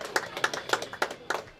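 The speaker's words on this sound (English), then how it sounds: "So, nice round of applause for our judges there." A crowd claps for the judges at a St Patrick's Day parade in Kilcormac, Ireland, in March 2014, giving a short burst of sharp, fairly quiet, evenly spaced claps.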